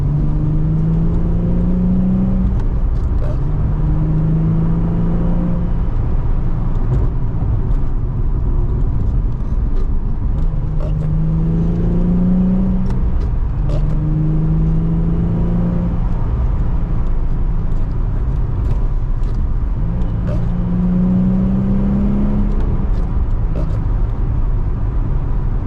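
A Nissan 350Z Nismo drives on a rough road, its engine droning loud and steady with rising revs in repeated surges as it accelerates through gears, a continuous close interior rumble with no talk.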